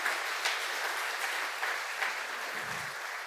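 Steady applause from a church congregation clapping for the Lord during a Spanish-language sermon, a dense continuous wash of hands from a crowd, sustained throughout at moderate level.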